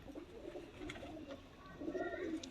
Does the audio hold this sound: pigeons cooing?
yes